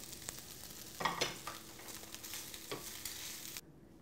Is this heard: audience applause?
no